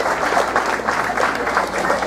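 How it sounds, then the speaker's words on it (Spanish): An audience claps and cheers for a youth symphonic band from Zacatecas, a dense burst of applause filling the hall. "Reciban ese aplauso."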